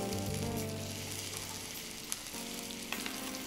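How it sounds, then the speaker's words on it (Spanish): Apple pieces browning in Olmeca Light oil in a pan, a loud continuous sizzle with a low tonal hum underneath and a couple of sharp pops. "Solo los vamos a dorar un poquitín."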